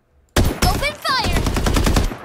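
Rapid bursts of automatic gunfire from the Farlight 84 shooter game, loud and close, firing in repeated volleys with brief gaps and no talk over it.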